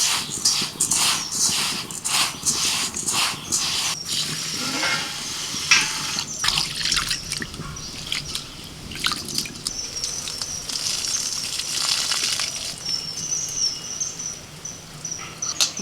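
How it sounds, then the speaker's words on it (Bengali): Broken rice and masoor dal are swished and rinsed in water, with steady splashing, dripping and sloshing close by through the whole stretch, plus occasional louder stirs and pours. "ভালো করে 2-3 বার জল পাল্টে ধুয়ে নিয়েছি ডাল আর খুদ"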